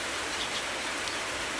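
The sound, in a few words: rain falling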